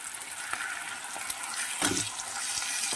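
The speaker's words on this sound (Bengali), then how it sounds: "টমেটোটাকে একটু ভালোভাবে ভেজে নেব" Tomato puree fries in hot oil with Kashmiri chilli powder on a tawa, a close, steady sizzle with occasional scraping stirs and a slightly louder stir toward the middle.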